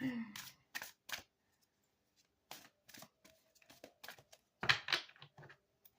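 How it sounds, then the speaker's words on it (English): Large oracle cards being shuffled by hand, a series of brief papery riffles and slaps in uneven bursts, close and fairly quiet, with gaps of near silence between them. "These cards are so big. They're hard to shuffle."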